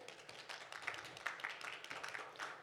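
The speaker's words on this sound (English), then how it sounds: "Give yourselves a round of applause." Attendees at a tenant-landlord rights workshop give themselves a short round of applause, a modest, fairly even spatter of clapping from a small group that stays moderate in loudness for under three seconds.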